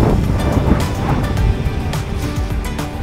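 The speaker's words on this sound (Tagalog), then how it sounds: "Lalakas ng alon dun, oh." Strong sea waves at a port rolling and breaking in a continuous churning wash, with wind buffeting the microphone throughout and no speech.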